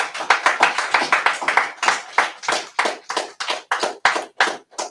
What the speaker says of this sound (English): Clap it up for Mordecai.